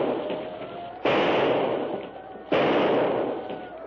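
Two sharp gunshots in a radio drama, fired at a crocodile swimming in a river, crack loud and close about a second and a half apart, each ringing into a long decaying echo.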